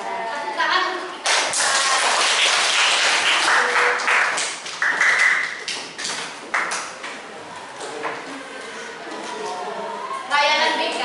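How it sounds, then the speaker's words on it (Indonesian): A class of seventh-grade students bursts into applause during a school counselling session, a dense burst of clapping that runs through most of the moment, with children's voices before and after. "Tepuk tangan untuk kita."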